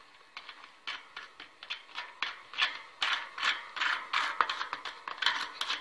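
A nut is tightened onto the axle of a Niger bicycle's wire-spoked wheel, giving a quick string of soft, close mechanical clicks and ticks in a fairly steady rhythm, growing slightly louder as it goes.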